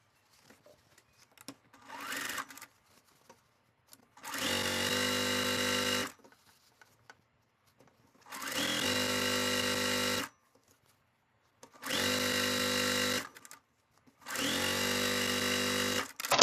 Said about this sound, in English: sew this other stripe down the other side